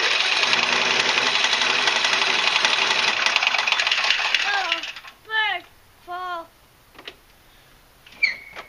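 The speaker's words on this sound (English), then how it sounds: "It overheats, you snap a connecting rod, and next thing you know, it sounds a little like this." A harsh, rapid mechanical clatter from a 20 HP Briggs & Stratton engine on a Husqvarna, knocking from an overheated, snapped connecting rod, runs loudly for several seconds, then cuts off, followed by short bursts of speech.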